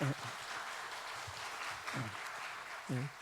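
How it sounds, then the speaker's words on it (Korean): A church congregation at a Sunday worship service claps in welcome, a steady wash of applause throughout while a voice speaks briefly over it. "우리 박수로 환영하겠습니다."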